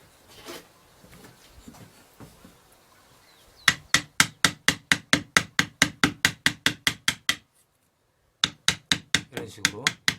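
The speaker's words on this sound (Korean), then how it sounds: "혹은 이런 환도를 사용해서 이런 식으로 그 굴곡진 그" Round gouge carving a curved surface in wood for relief sign carving, heard as a fast, evenly spaced run of sharp mallet taps close by, with a brief pause before the tapping resumes.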